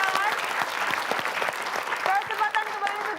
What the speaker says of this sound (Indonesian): buat kedua tim. Tepuk tangan.